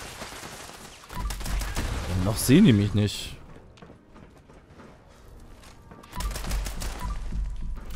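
Rapid gunfire bursts from the video game Fallout 76, loud in two stretches with a quieter gap between, mixed with game sound effects and someone talking over part of it.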